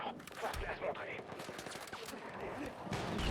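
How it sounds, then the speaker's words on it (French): Rapid machine gun fire in Battlefield 6, a fast stream of crackling shots that is fairly quiet, blending with the surrounding game din as a voice talks over it. "Ah c'est une mitrailleuse"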